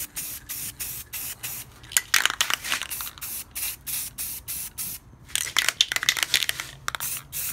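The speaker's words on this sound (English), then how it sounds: "Just some spray paint." Short hissing bursts of spray paint, repeated in quick irregular pulses with brief pauses between them, close to the listener.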